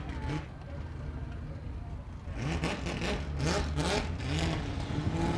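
Nissan S15 drift car engine revving hard during a drifting qualifying run, rising and falling in repeated surges against a steady crowd and commentary background, with talk over the top.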